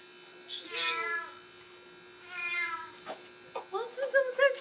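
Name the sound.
kitten meowing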